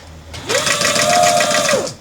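A sewing machine chain stitching small fabric pouches runs in one steady, loud, close burst of rapid whirring that winds up, holds for over a second, and then winds down.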